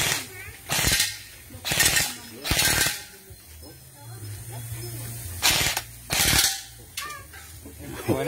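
A Daniel Defense rifle fires roughly six loud, sharp shots outdoors, spaced unevenly with short pauses between them, while voices talk faintly in the background.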